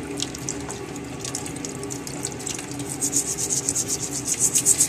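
Water runs steadily from a tap while an acetate peel sample is rinsed, with rhythmic scrubbing and rubbing strokes growing more pronounced toward the end.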